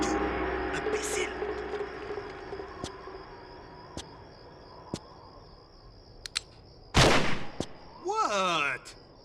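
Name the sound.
gunfire in video game Tomb Raider Chronicles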